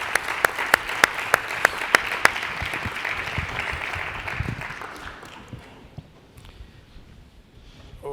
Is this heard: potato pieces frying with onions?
no